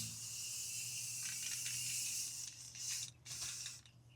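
Aerosol spray paint hissing steadily as a first dusting coat goes onto bare metal, a continuous close hiss with brief pauses and bursts near the end over a low hum.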